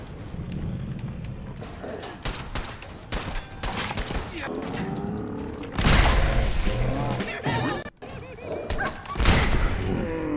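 Gunfire in Fallout 4 with Sim Settlements 2, irregular bursts of shots, thuds and impacts at close range, loud and chaotic, with a voice talking partly over the action.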